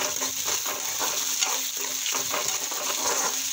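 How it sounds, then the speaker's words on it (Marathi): Pigeon pea seeds roasting in a hot pan, a continuous soft sizzle with faint intermittent stirring scrapes, close and alone. "थोडेसे दाणे भाजू देऊ"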